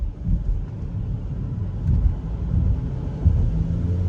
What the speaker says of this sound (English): Oh, there the engine comes on.